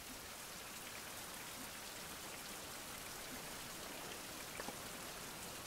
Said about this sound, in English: And raining again, unbelievable.